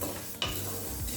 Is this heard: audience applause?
no